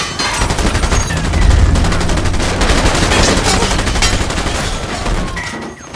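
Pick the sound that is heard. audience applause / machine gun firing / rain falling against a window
machine gun firing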